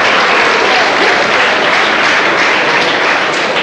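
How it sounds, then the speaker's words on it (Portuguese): Lecture audience at a science class on the chemical history of a candle breaking into loud, dense applause, a continuous close wash of many hands clapping with no talk over it. "Levantam palmas, da ciência."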